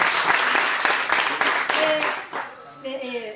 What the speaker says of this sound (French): Applaudis pour le Saint-Esprit.